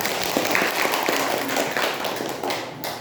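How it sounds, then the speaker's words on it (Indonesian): Applause from a class of junior high school students at SMPN 01 Pulau Beringin, a dense wash of clapping that fills the room for about three seconds without talk. "tepuk tangan ya"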